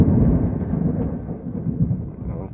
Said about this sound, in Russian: любуется непогодой, дождь на улице.